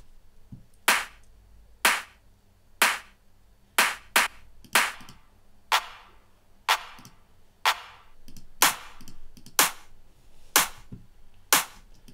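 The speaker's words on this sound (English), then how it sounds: "Then we have 3 clap layers" Layered electronic clap samples in a dance-music drop hit one at a time, sharp and bright with short decaying tails, spaced in a steady rhythm with occasional quick doubled hits, isolated with no voices.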